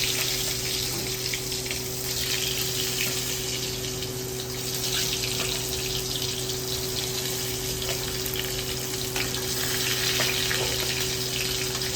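Bottle gourd (tinda) fries in hot oil with cumin in a kadai, making a steady, dense hiss and sizzle that continues unbroken over a low background hum.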